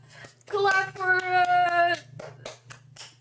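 Scattered hand claps from an audience cheering an 8-year-old during a streamed interview, a handful of sharp strokes spread over about three seconds, with a sustained voiced tone and a low steady hum underneath.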